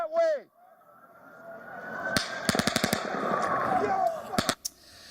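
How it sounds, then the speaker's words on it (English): A brief shout comes first, then bursts of rapid gunfire crack out in quick clusters over a rumbling, noisy background, with two final shots. "There's gunshots coming from over there!"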